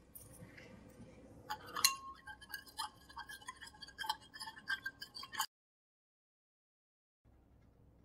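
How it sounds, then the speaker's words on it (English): A utensil clinks and taps rapidly against a glass while salt is stirred into a solution, a close, bright run of ticks that stops abruptly, followed by near silence. "we can keep on adding salt and stir it to dissolve it in this solution"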